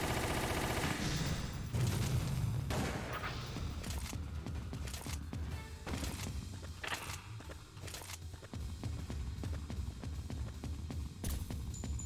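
Gunfire in the video game Resident Evil: The Umbrella Chronicles: dense, loud, continuous shooting with bursts and booms layered over a steady game soundscape for the whole stretch.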